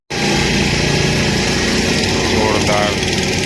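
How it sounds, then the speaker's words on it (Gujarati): Steady motorboat engine droning loud and close on the Narmada river at Omkareshwar, a continuous buzzing hum that holds throughout with no break. "લાઈન બંધ બોટો આગળ જઈ રહી છે."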